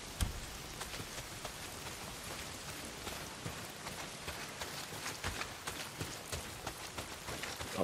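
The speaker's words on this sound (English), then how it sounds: "not if it's pissing down rain" Steady rain falls in the video game Days Gone, a dense, even hiss of drops spattering on surfaces with scattered louder taps, continuous throughout and no talking.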